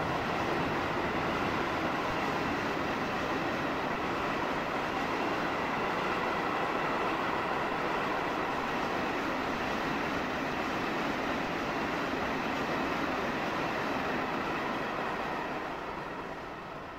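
Intercity train in a Train Simulator game on the RE9 Bremen–Osnabrück route, pulling into a station with a steady, loud rumble of wheels and running gear that fades slightly at the end, with no voices.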